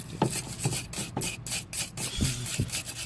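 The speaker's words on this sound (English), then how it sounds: "I'm gonna clean this out so you guys can see. This is just an old, grill cleaner." Stiff bristles of an old grill-cleaning brush rasp back and forth against a corroded car battery terminal, a series of close, gritty scrubbing strokes in an uneven rhythm with no talking.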